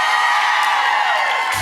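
A live audience at a motivational training event cheers and whoops loudly, a dense crowd roar that holds steady before cutting off abruptly near the end.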